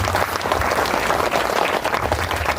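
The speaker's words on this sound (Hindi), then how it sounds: "बजाइए ताली जोर" A devotional religious discourse audience claps loudly and steadily, a dense continuous wave of applause from a crowd with no speech over it.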